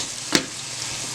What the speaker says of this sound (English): Let me check on the onions and the peppers. Give them a stir.